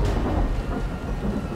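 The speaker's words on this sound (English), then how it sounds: "I can't see shit because the rain is hitting my face." Heavy rain pours steadily in the video game Dying Light, a dense, loud wash with a deep rumble of thunder running underneath throughout the short stretch.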